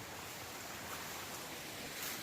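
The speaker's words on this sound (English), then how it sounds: "this little waterfall stream, it's fucking gorgeous" Small waterfall stream flowing outdoors, a steady broadband rush of water that stays even and continuous throughout, fairly close with no talk over it.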